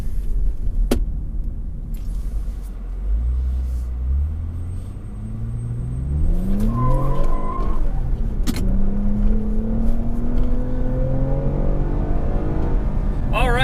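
A 2020 Toyota Camry TRD driving, steady engine rumble with rising and falling tones as it accelerates through the gears, a couple of sharp clicks from inside the cabin and road noise throughout.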